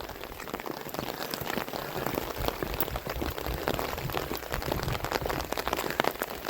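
Rain pattering steadily on an umbrella during a wet walk through the town of Sointula, a dense, even patter of close drops with no voices.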